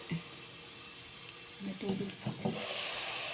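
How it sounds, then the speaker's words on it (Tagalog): Green beans and ground meat bubble softly with a gentle sizzle in a pan, with a few low murmurs of a voice nearby, quiet and steady. "Ayan, kumukulo-kulo na."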